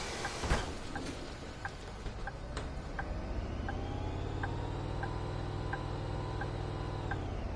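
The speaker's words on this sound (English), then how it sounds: "that thing still revs even when I just tap the accelerator lightly, so that's just how the diesels are in this one for now" A diesel bus engine revs in Bus Simulator 21, a CapaCity L test bus, throttled by light taps on the accelerator. A steady drone climbs and holds in pitch, with a regular ticking running over it throughout.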